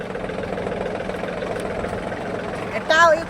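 A tractor engine runs steadily at a mid pitch while pulling a sowing seed drill through a field for jowar planting, with a continuous rumbling drone and a short voice rising briefly near the end.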